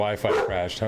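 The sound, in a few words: dog barking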